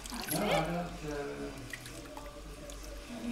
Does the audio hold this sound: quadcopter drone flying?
no